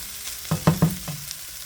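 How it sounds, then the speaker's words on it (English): A few scraping, sizzling stirs of rice mixed with garlic and onion in a hot pan, several distinct strokes in quick succession, close and fairly loud. "I'm going to go ahead and add the rice in. And mix that around really good."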